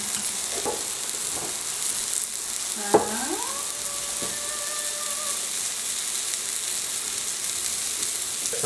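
Onions and seared pork sizzle in a hot frying pan, giving a steady close crackle and hiss. Midway a single ringing metallic clink sounds, like a utensil striking the pan.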